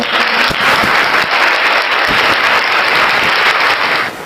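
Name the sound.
applause welcoming viewers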